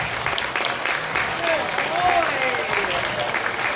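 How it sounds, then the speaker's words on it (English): A crowd of spectators at a dolphin show claps steadily for a rough-toothed dolphin's kiss, a broad wash of applause with a faint whistle-like tone gliding through it. "Let's give her a big round of applause."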